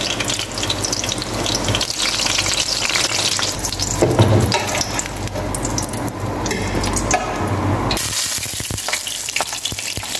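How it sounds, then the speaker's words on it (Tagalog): Eggplant frying in hot oil gives a steady, dense sizzle up close, with stirring scrapes and a brief splash of running water near the end. "Prito ang talong."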